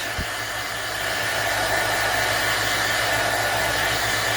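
A heat gun drying ink blows with a steady, loud whooshing hum and a low motor drone, running continuously without a break.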